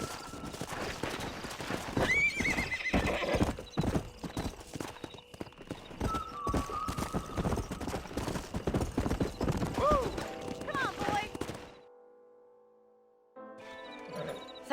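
Horses in the Red Dead Redemption video game clip-clop along with steady hoofbeats, and a couple of loud neighs and whinnies ring out over the game's background sound before a short quiet stretch.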